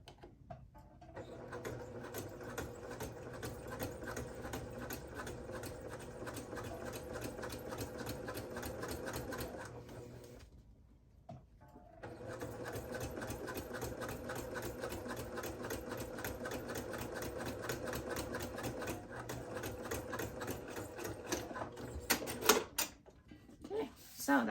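A sewing machine top stitches along fabric while a washable wet bag and changing pad are made, its steady rapid whir running nearly throughout with one brief pause midway and a voice talking over it.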